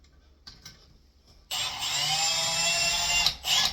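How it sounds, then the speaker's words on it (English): A cordless drill whirs steadily for about two seconds while driving a screw to fasten a toilet seat, following a few faint taps and handling noises. "you can use your drill here."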